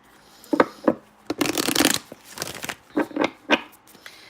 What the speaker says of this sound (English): Let me just shuffle this up.